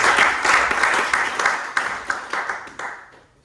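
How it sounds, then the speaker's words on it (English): Applause from an audience at a University of Oxford presentation, dense clapping that thins out and fades over a few seconds, fairly loud and close. "Can you give him a round of applause"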